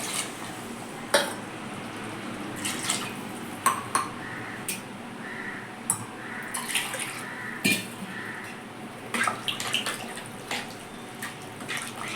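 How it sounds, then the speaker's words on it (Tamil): Water is poured into chicken kurma in a pan, with clinks and scrapes of a utensil against the pan over a soft running-water wash, no voices. "தேவையான தண்ணி ஊற்றி"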